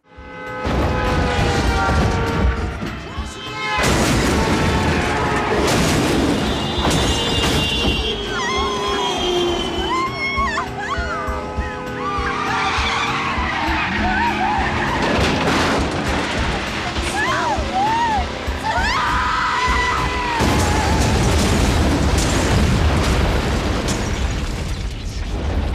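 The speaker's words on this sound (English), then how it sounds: "they just blow up the fucking car in a really good explosion" Car crashes and a big car explosion from the action film Ghoulies IV, loud booms and bursts running throughout with mechanical clatter and shouting voices layered over the roar.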